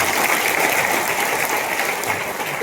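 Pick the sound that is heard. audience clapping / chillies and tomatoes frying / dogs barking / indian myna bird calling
audience clapping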